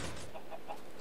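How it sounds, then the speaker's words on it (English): A chicken in a Minecraft-style game clucks three short times in quick succession, faint and close. "Let's try to get this chicken inside so I don't squish him."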